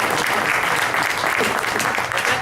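Applause from an audience at a talk by an Ohio state legislator, a continuous dense wash of clapping that stays loud and even throughout the short stretch.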